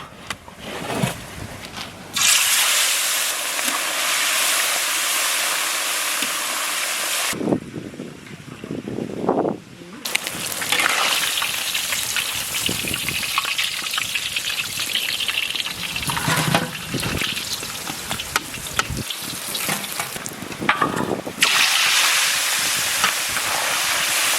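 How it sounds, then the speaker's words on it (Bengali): Pieces of katla fish coated in turmeric and salt fry in oil, a loud, dense sizzling hiss that breaks off briefly a couple of times and then returns strongly. "মাছটাকে ভালো করে হলুদ লবণ দিয়ে মাখিয়ে দেবো। মাছ আমরা ভেজে নেব।"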